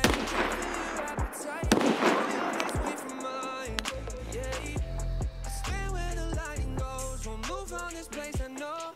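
Gunfire in the game Escape From Tarkov, with several sharp shots and bursts scattered across the clip, some loud and others more distant, over tonal in-game sounds and background noise.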